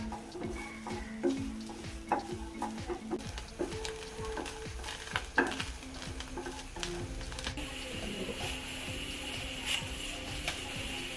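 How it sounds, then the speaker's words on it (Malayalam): Grated coconut and fennel stirred and roasted in coconut oil in a pan, a steady low sizzle with repeated scraping strokes of a spoon throughout, close by with no talk. "തേങ്ങ നല്ല ബ്രൗൺ കളറാകുന്നത് വരെ നമുക്ക് ഇളക്കിയെടുക്കാം."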